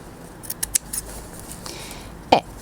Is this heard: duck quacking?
no